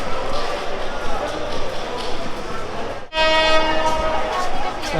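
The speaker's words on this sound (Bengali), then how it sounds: "আজকে আমার সফর সঙ্গী হচ্ছে এই ট্রেন" Kurigram Express passenger train at Kamalapur, Dhaka, heard loud and close: a steady rumble of rolling wagons, then after a brief break a long sustained horn blast over continuing rail noise.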